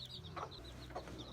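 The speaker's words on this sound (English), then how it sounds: "there is the other hen with her chicks" A hen on a small rural ranch clucks softly with her brood of seven chicks nearby, a few low, faint clucks alongside thin high peeping chirps from the chicks.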